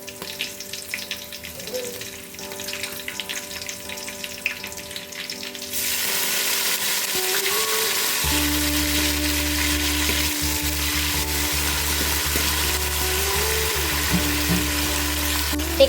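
Fresh mint and coriander leaves frying in masala in a pan for Hyderabadi biryani, a strong steady sizzle that jumps louder partway through and continues with stirring, close and without talk.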